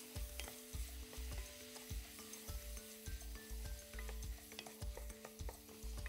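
Vegetables frying in oil in a pan for a shrimp kabsa, stirred with a regular rhythm of scraping strokes over a low, constant sizzle; faint and without speech.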